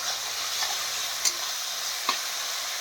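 Spices frying in oil for a fish-head muri ghonto, a continuous close hiss and sizzle with two sharp spatula taps against the pan.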